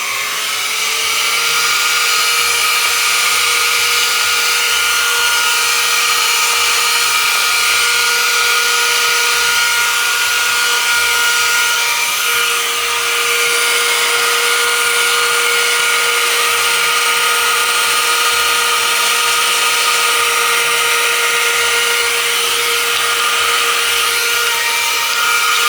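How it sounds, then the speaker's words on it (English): A cylinder-type vacuum cleaner runs steadily nearby, a loud, constant high-pitched motor whine and airflow rush with no change in pitch and no talk. "One of these vacuums, they're like a cylinder type, and they're awesome for powder spills."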